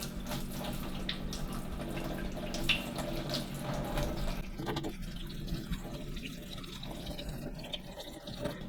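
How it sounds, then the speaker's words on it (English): Warm water flushed through the gauze of a Karcher K4 pressure washer water inlet filter, a steady hissing splash and trickle like a running tap into a sink, continuous and close throughout. "So I'm just going to use some warm water and just flush it through."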